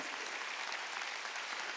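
Congregation clapping during a Sunday worship service at a church, a dense, even wash of applause that is faint and distant, with no voice over it.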